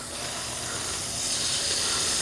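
A steady hiss of water spraying from a garden hose nozzle on a Vego Garden retractable hose reel, growing slightly stronger partway through, with no voices.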